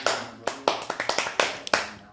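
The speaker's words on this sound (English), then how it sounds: "So every time I'm done with the meal, I just clap my hands." A person claps their hands after finishing a meal, about a dozen sharp, close claps in an uneven rhythm over two seconds, fairly soft.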